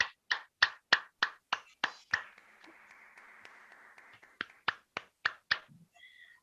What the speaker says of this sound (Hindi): जोरदार अपने ध्यान के लिए तालियां बजाएंगे हम सब मिलकर